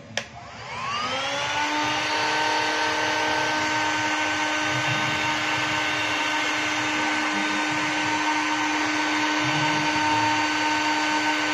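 A hot air gun set to 350 degrees for softening PVC pipe switches on with a click and spins up into a loud, steady whirring blow with a rising whine, then holds constant throughout.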